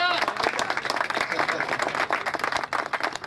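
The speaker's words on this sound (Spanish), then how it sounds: "Un aplauso para el Gallego." A crowd claps and cheers in a steady wash of applause at a building inauguration in Lanús, fairly loud and sustained, with voices mixed in.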